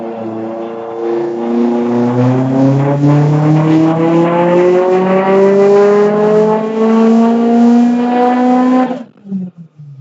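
A built 2007 Subaru STi running E85 makes a full-throttle pull, its engine note climbing steadily and loudly for about nine seconds before cutting off abruptly.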